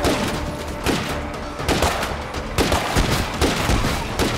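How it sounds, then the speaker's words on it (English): Sustained gunfire crackles in State of Decay 2, with rapid overlapping shots and bursts forming a loud, continuous barrage across the whole stretch. "Yep, lots of shooting."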